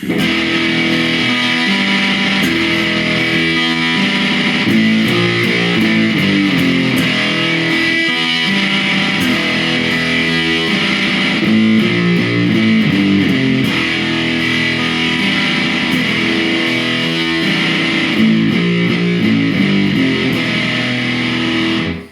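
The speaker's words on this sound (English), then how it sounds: "Very much just kind of stereotypical sort of warm fuzz tones." Loud, sustained electric guitar through a Fender Hello Kitty fuzz pedal with a warm, fuzzy tone, played continuously with strummed chords and riffs, no voices.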